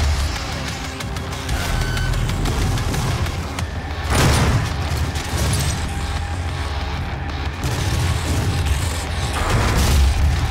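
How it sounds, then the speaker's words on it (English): A grenade goes off in the video game DOOM, a loud booming blast around the middle that sits within continuous rumbling in-game combat noise and further low thuds, with no voice heard. "Have a grenade."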